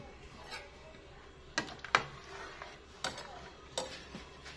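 Nido chicken soup with malunggay being stirred in a pot, a few sharp spoon clinks and scrapes over a faint background simmer, with no talking.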